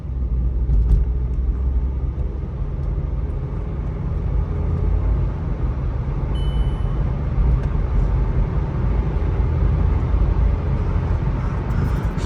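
Volkswagen Polo GT in sports mode accelerating, heard as a sustained low engine and road rumble from inside the car, steady and fairly loud over several seconds with no talking.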